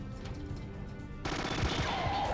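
Machine gun fire in the strategy video game Battle Isle begins partway through as a dense, loud, continuous burst over a quieter game background.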